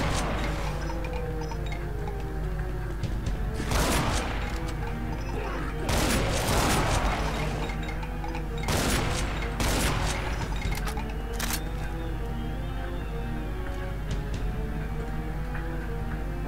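Bursts of gunfire ring out in Ultimate Doom with the Project Brutality mod, loud clustered blasts over a steady droning game background with no talk.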